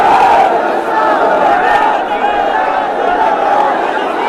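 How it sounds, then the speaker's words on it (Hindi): A dense crowd at a soldier's ancestral village home shouts patriotic slogans together, a continuous loud roar of many voices that swells and dips without pause. "चारों तरफ भारत माता की जय, जय हिंद के नारे लग रहे हैं।"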